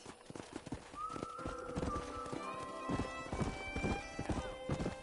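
Steady clip-clop of hooves trotting nearby by a corral in the video game Red Dead Redemption, with a drawn-out horse whinny rising above the rhythmic footfalls.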